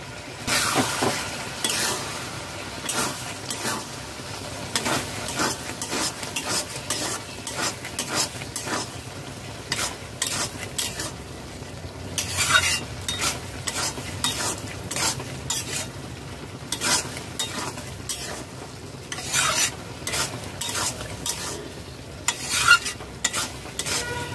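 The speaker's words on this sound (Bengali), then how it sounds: "ঘি বিরিয়ানি মশলা দেওয়ার পর 1 মিনিট নাড়াচাড়া করে নামিয়ে নেব" Ghee and biryani masala are stirred in a pan with a soft sizzle underneath and frequent sharp scraping clinks of a spoon against the metal, in irregular bursts, with no talk.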